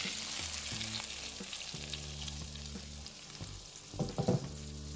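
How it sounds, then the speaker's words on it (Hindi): A butter and cumin tempering sizzles as it is poured over dal makhani, a steady close frying hiss that swells into a louder burst of crackling near the end, with a soft hum underneath. "और अब हम इसके ऊपर तड़का लगा देते हैं।"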